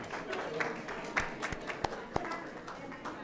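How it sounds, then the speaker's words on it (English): Scattered clapping from a small audience at a school board meeting, sparse and uneven with individual sharp claps rather than full applause, fairly faint and distant. "Let's give them one more round of applause"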